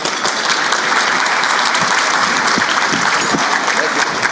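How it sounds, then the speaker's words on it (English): At a plenary session of the Illinois Workforce Summit 2026, a conference audience claps loudly and continuously to welcome a speaker, a thick, even wall of applause from a large crowd. "I haven't done anything yet, but I do appreciate the applause."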